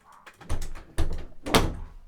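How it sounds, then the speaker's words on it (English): A few heavy thuds and bumps, with the last one loudest, like a door being pushed shut nearby in a quiet room. "Hold on, let me shut the door."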